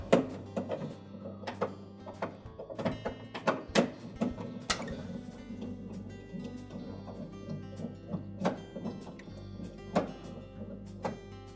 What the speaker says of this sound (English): remove two 1/4-inch hex head screws to secure that control housing to the ceiling